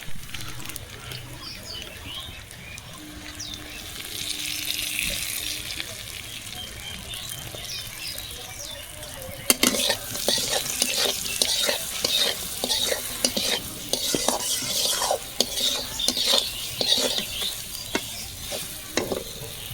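Pointed gourd (potol) fries in a pan, a soft sizzle at first, then louder scraping and stirring strokes with a rhythmic clatter over a constant hiss.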